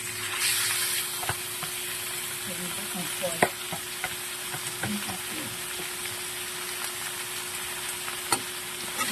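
Ground pork sizzles and fries in a pan, a steady hiss with occasional stirring scrapes and sharp pops, close up and continuous without speech.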